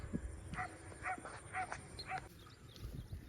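Birds at a polluted pond give faint, distant calls in a rhythmic run of about five short cries, heard over low outdoor background noise.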